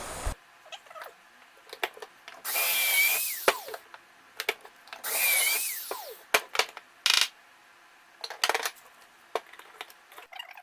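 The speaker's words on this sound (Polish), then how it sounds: "nawierty na każdym elemencie, który posłuży nam do schowania wkrętów" A power drill bores pilot holes into furniture panels for a hidden-joint upholstered cabinet in two close, loud whirring bursts of a few seconds each, with short clicks and knocks of handling between them.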